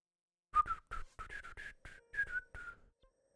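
A person whistles a short, halting tune of about a dozen chirpy notes, close and clear against otherwise silent surroundings.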